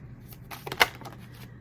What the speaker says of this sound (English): I'm just going to shuffle now for your spread